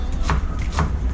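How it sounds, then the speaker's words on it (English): An onion is chopped on a board with two quick knife strikes roughly half a second apart, close and fairly loud over a constant low kitchen hum. "gonna cut up this onion quick"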